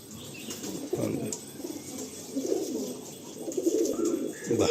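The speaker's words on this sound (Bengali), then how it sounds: "প্রচন্ড ছটফটে পায়রা" Restless Andhra pigeons flap their wings in repeated bursts close by, with soft cooing and shuffling between the flurries. The flapping picks up again near the end.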